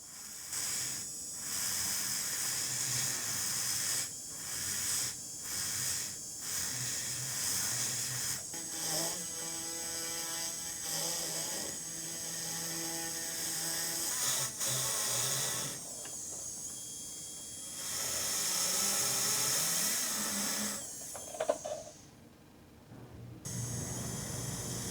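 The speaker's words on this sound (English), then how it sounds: "So I got a little Zamm on a brush here, and I'm just gonna go around, do a little finish polishing." A brush loaded with Zam polishing compound whirs against a turquoise nugget pendant with a silver inlay. It makes a steady hiss that shifts in pitch and loudness as the piece is worked, then stops briefly near the end.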